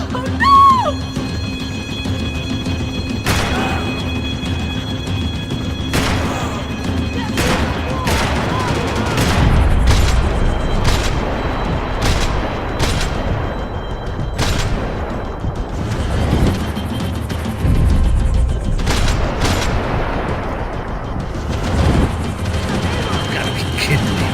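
Rapid gunfire and heavy weapon fire in the PC video game Max Payne 3, dense overlapping bursts with booming low rumble and engine drone, loud and continuous.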